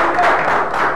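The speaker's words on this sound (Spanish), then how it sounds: "Un aplauso para nuestro televidente que viene del" Brief burst of studio audience applause on a Saturday television variety show, dense and fairly loud for about a second.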